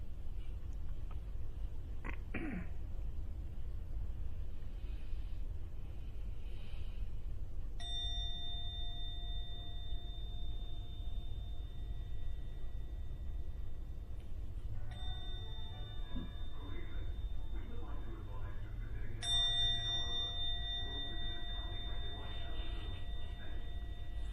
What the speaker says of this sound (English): I will now ring the gong 3 times.